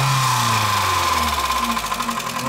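A VW car engine is revved to around 3000 rpm and released, its close, loud mechanical whir sweeping downward in pitch as the revs fall back.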